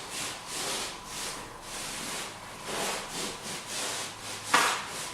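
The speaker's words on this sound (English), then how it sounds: "take your sea sponge and in a swiping manner here and there at random, catch the edges of your skip trowel design" A sea sponge is swiped at random across a skip trowel plaster wall finish, giving a run of soft, close, rhythmic swishing rubs with brief pauses, alone without talk.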